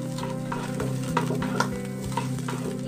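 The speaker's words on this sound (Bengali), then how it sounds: "এবার আমি লো টু মিডিয়াম ফ্লেমে এই আলু আর ফুলকপিটাকে একটু গোল্ডেন কালার আসা পর্যন্ত ভেজে নিচ্ছি।" Potato and cauliflower pieces frying in hot mustard oil over low to medium flame, a steady close sizzle with soft stirring scrapes of a utensil in the pan, with no talking.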